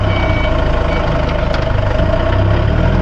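A forklift engine runs steadily while unloading a semi trailer of wood shavings, a loud continuous low rumble with mechanical whine and no pauses.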